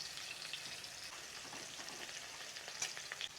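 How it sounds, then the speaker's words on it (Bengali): Onions frying with turmeric in a pan give a quiet, continuous hissing sizzle with faint crackles, low in level and heard alone. "পেঁয়াজটা ভাজা হয়ে গেছে, এবারে পেঁয়াজের মধ্যে দিয়ে দেবো আরও কিছুটা হলুদ"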